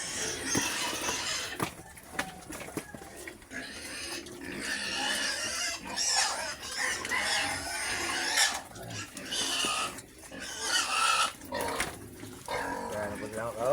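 Farm pigs squeal, grunt and oink loudly and continuously at feeding time, a dense close chorus of overlapping cries with rasping snorts, while someone talks over the din.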